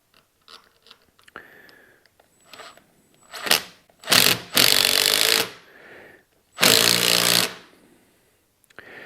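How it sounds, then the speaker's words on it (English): Hand-driven T25 wrench with a deep-well socket seating a traction stud into a snowmobile track, giving scattered small clicks and then several loud rasping grinding bursts of a second or so each, close up. "all I'm going to do is drive this down"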